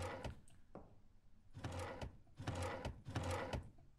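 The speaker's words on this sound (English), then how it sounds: "Search every drawer." Wooden drawers in The Mortuary Assistant horror game slide open and shut repeatedly while being searched, a series of close, heavy rumbling scrapes with knocks, roughly four in quick succession.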